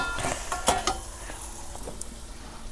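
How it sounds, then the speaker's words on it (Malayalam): A hot cooking pot is shifted on a kitchen stove while crab curry cooks, giving sharp metallic clanks and scrapes over a steady, close sizzle of frying. "നമ്മുടെ കൈ പൊള്ളിയ പാത്രം ഇട്ടിട്ടുണ്ട്, അതെടുത്ത് മാറ്റട്ടെ."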